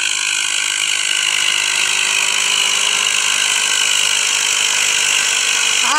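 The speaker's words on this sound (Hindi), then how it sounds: "चल रहा है ट्रैक्टर, चल रहा है" A tractor and a Thar jeep strain against each other in a video game tug-of-war, their engines a steady, high mechanical whine and drone that holds constant throughout, loud and close, with no talking.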